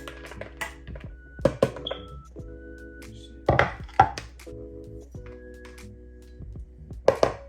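A single garlic clove minced with a knife on a cutting board for homemade meatballs: scattered sharp chops and a few clinks come in irregular bursts over a steady low hum, close and fairly quiet.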